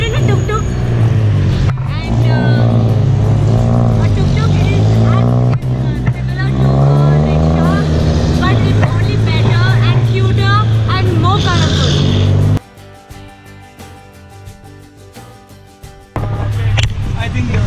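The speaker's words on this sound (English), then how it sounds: "Guys, so we are in a tuk-tuk" Motor rumble of a tuk-tuk ride through Bangkok streets, a steady engine drone with revving swells and passing traffic, loud and close, with voices over it; the engine noise drops away briefly near the end before returning.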